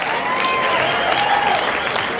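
An arena crowd applauds both fighters after a mixed martial arts bout ends by guillotine choke, producing a loud, sustained wash of clapping with no clear breaks.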